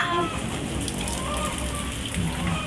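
Light drizzle falls steadily as a soft, even patter of rain on surfaces, a continuous wash of noise at moderate level with no distinct drops standing out.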